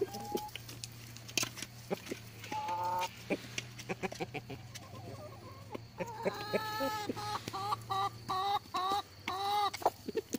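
Several chickens cluck and squawk close by in an ongoing chorus over a steady low hum, with sharp calls popping out repeatedly.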